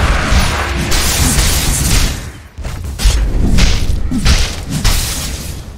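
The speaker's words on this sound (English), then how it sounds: "Radiant's bottom tower is under attack. Radiant's bottom tower has fallen." Dota 2 Radiant bottom tower being destroyed in game, a dense run of loud booming impacts, thuds and whooshing crashes that keep on with brief dips, and no speech.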